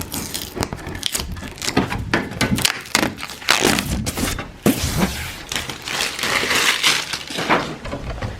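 Protective plastic film peeled off a print frame, a continuous close crackling and crinkling with sharp snaps and rustles throughout, fairly loud and without talk.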